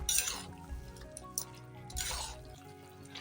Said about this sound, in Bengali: সয়াবিনটা দিয়ে আমি ভালো করে আরও নেড়ে ছেড়ে নিচ্ছি